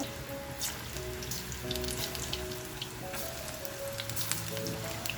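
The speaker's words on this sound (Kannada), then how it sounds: "ನೋಡಿ ಎಣ್ಣೆ ಚೆನ್ನಾಗಿ ಕಾಯ್ದಿದೆ ಇವಾಗ ಮೀಡಿಯಂ ಫ್ಲೇಮಲ್ಲಿ ಇಟ್ಕೊಂಡು ಉಂಡೆಗಳ ಥರ ಬಿಟ್ಕೊಳ್ಳೋಣ" Spinach fritter balls fry in hot oil over a medium flame, giving a steady, close sizzle with bursts of crackling and popping that run through the whole stretch without any voices.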